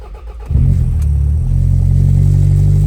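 A car engine with a freshly refurbished distributor cranks and catches on its first test start, then settles into a loud, steady idle with a deep rumble up close.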